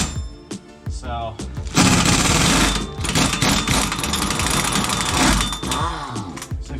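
An impact wrench hammers on the rear hub nut of a Nissan 350Z in a loud rattling burst of several seconds, close up, with someone talking before and during it.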